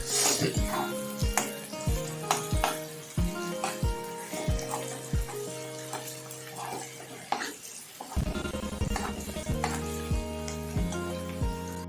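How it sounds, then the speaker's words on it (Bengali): Potato and pointed gourd fry in hot oil with a steady sizzle, broken by repeated clinks of a utensil against the pan and a brief pause before the frying resumes. "তো দেখো এখানে আলু আর কাঁকরোল ভাজাটা প্রায় কিন্তু হয়ে"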